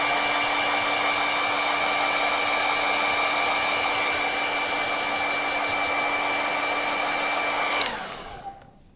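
A hair dryer blows steadily to dry paint on an artwork, a loud close whirring rush with a constant motor whine, then switches off and winds down near the end, with no talking.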